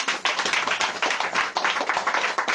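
A church congregation clapping together during a service, fast and rhythmic, loud and close, continuing steadily throughout with no talk.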